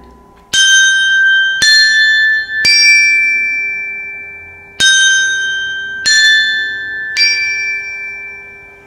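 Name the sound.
small high-pitched carillon bells ringing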